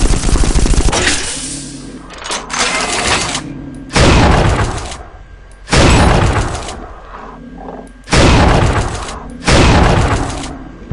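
Weapon alt-fire in the Unreal 2 video game: loud bursts of bolt shards ricocheting off walls, six sharp, dense volleys in an irregular rhythm separated by brief quieter gaps with mechanical hum.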